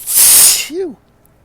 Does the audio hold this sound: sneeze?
yes